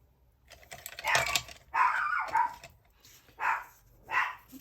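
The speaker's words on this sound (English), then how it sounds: "I've discovered that dogs bark a lot." Dogs bark in several separate bursts, sharp and fairly close, with quiet gaps between them and light tapping sounds in the background.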